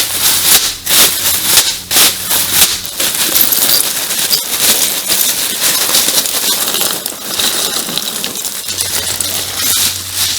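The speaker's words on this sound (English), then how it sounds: "Let's get some ice." Loose ice pours and clatters into a Harley-Davidson motorcycle saddlebag cooler already packed with twelve cans, a dense run of rattling, crunching cube impacts that stays fairly loud and steady with no talk.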